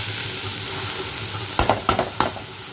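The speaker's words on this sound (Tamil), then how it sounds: "இப்போ முட்டைக்கோஸை சேர்த்துட்டு இப்போ இதை மிக்ஸ் பண்ணிக்கலாம்" Cabbage sautéing with onions in a pan gives a steady loud sizzle, and toward the end four sharp scrapes of a spoon stir through it, close by, with no talking.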